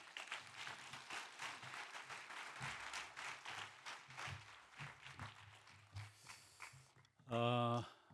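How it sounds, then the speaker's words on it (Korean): A church congregation at a retirement and graduation thanksgiving service applauds as the pastor comes out: sustained, dense clapping for about seven seconds, ending in a short, loud tonal sound. "목사님 나오실 때 큰 박수로 맞아주시길 바랍니다."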